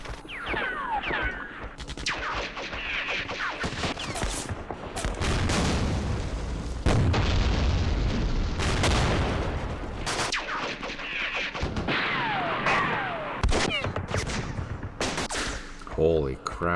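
Artillery fire and explosions in the Campaign Series West Front wargame come as repeated heavy booms and bursts of gunfire in clusters, with mechanical clanks between and some chirpy game sounds layered over.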